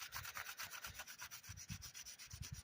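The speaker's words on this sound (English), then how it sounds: "you want to try and get that Scotch-Brite down into them to get a scratch on those areas" A Scotch-Brite pad scuffs a plastic Power Rangers Turbo morpher toy in quick back-and-forth strokes. The rhythmic, close abrasive rubbing repeats steadily, about seven strokes per second, for under three seconds with no talking.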